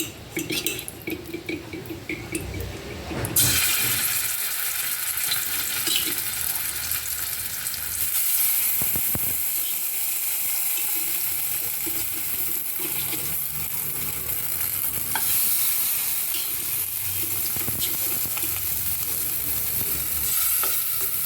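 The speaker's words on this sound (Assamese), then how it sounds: "বাকি থকা মাছকেইটাও মই ভাজি লওঁ।" Fish fry in hot oil with a steady, loud sizzle and occasional stirring clatter of a pan, a quieter stretch at the start before the frying swells and continues throughout.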